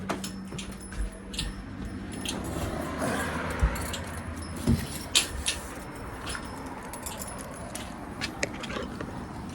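Car keys jingle in short metallic bursts spread across the stretch, sometimes louder and closer, over a low steady hum and faint ambient noise.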